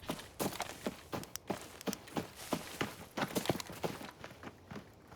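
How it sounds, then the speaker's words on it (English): Footsteps in the video game Arena Breakout Infinite: a steady run of about a dozen quick, crisp steps at moderate distance, continuing evenly for several seconds with no talking. "Footsteps in front."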